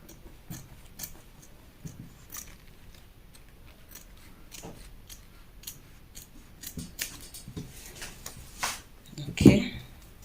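Scissors trimming the fabric of a long shirt sleeve at a sewing table, crisp intermittent snips close by with quiet pauses between cuts and a louder rustle near the end.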